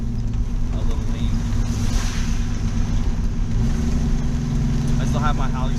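A 1967 Ford Mustang engine idling and running lean, a loud, steady low rumble that holds throughout with a faint uneven wobble.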